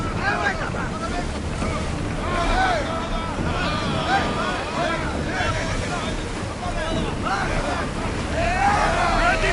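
A sailing ship pushes through ocean waves in Assassin's Creed Odyssey, with steady wind, rushing water and creaking hull under continuous shouted crew voices.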